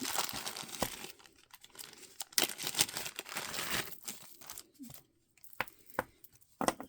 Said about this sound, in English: There's a lovely empty plastic bag.